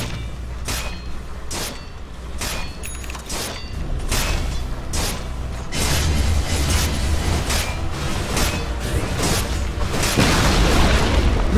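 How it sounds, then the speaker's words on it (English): A Dota 2 tower is battered and collapses. Repeated sharp impacts and creaking, mechanical crunches build steadily into a louder, denser rumble of breaking structure toward the end, with no talking. "Radiant's top tower has fallen."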